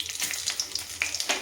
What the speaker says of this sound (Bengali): এবার এই সর্ষের তেলটার মধ্যে এই আস্ত জিরে আর আস্ত গরম মশলা ফোড়ন দেবো